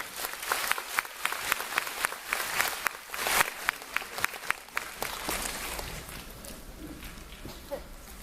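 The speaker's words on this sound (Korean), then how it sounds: "이동환 교수님을 힘찬 박수로 맞이하겠습니다" A hall audience at a parents' maths talk concert gives a professor a hearty welcome with loud, sustained clapping. The ovation tapers over several seconds, and voices come through faintly at the close.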